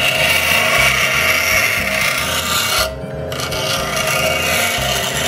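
A steel card scraper is rubbed against a diamond sharpening stone in steady, even strokes, producing a loud, continuous rasping scrape close up that pauses briefly partway through.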